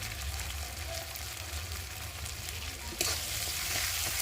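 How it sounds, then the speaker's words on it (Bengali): Ground spices with salt and turmeric fry and get stirred in a pan for a tilapia mustard curry: a faint, even sizzle that swells slightly partway through. "মশলাটাকে ভালো করে কষিয়ে নেব"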